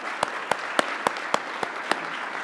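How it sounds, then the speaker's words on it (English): Awards-event audience clapping in a sparse, slightly uneven run of about eight distinct claps over a couple of seconds, close and moderately loud with no speech. "let's give another big round of applause to all of our awards today"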